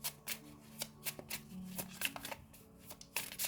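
Tarot cards shuffled by hand during a reading, a quick run of crisp riffling flicks and soft slaps in an irregular rhythm, close and fairly quiet, with no talking.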